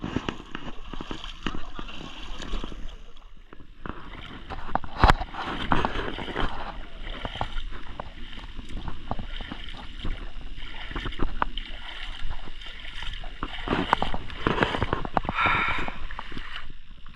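Water churns and sloshes continuously as a power tiller truck pushes through a shallow, clear-water canal between hills, with a rough engine rumble and splashing throughout.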